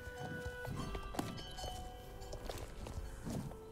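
Horse hooves clip-clopping at a walking pace in the video game Star Stable Online, over a busy, faint game background, with a few thunks; no speech.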